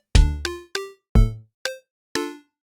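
Minecraft note blocks on a modded redstone server pluck out a D, F, A chord as six separate bright plinks, spaced unevenly over about two seconds, each ringing briefly and decaying, with no voices.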